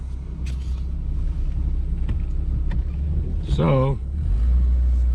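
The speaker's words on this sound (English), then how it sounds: "Stuck the old Eagle in 4-wheel drive" An old Eagle vehicle in four-wheel drive rumbles steadily from inside the cab near a deep canal and mud patch, a low drivetrain drone with a brief engine rev, while someone speaks.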